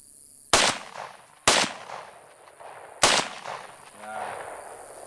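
Three loud, sharp gunshots are fired at targets from a gun fitted with a UUQ Prince 5 red dot sight, spaced about a second apart, each followed by a short echoing tail outdoors.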